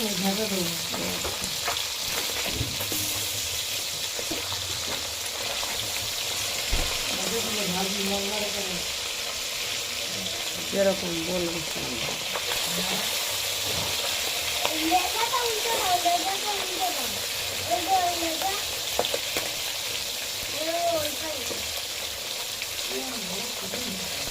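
Fish pieces and a fish head fry in hot oil in a home kitchen pan, giving a steady, close crackling sizzle throughout, with occasional stirring scrapes and a voice talking over it at times.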